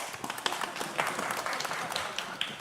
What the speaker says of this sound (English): I'm so happy that you are all clapping